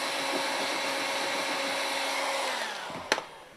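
A heat gun blows steadily on old wood of a hundred-year-old Norwegian window, a constant airy whine that winds down near the end, followed by a short sharp clack.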